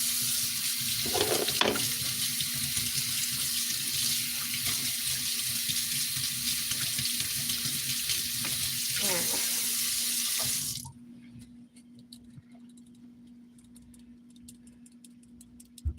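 Water pours steadily from a kitchen sink tap during washing up, a dense close rush that cuts off abruptly near the end, leaving faint clinks and a low hum.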